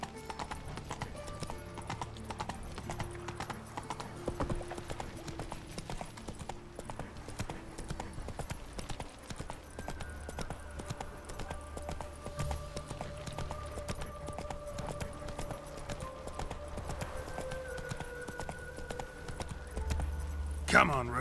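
Roach, Geralt's horse in The Witcher 3, gallops with a fast rhythmic clip-clop of hooves, steady throughout under game music, with voices of characters talking over it.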